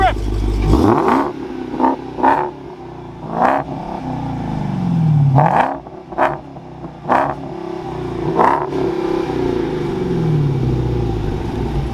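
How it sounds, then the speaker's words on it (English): A Dodge Challenger Hellcat sits at close range, its engine blipped through several sharp, loud revs that rise and fall in quick succession over a steady rumble, with people talking in the background. "Wait, get a rev. Get a rev."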